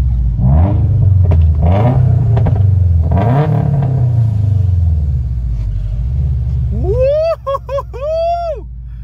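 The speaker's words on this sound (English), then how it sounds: "I'll give you guys a rev here in a second." A car with a Tomei exhaust and turbo, heard close and loud as several rising revs over a deep exhaust rumble, then a high whining turbo sweep near the end.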